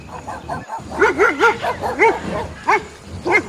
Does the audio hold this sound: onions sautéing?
no